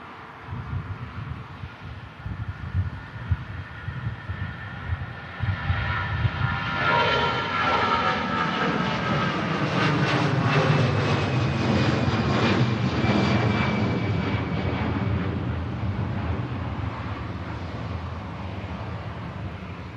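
An easyJet airliner takes off at Manchester Airport, its jet engines building into a loud, sustained roar that swells over several seconds and then holds steady as the aircraft climbs away.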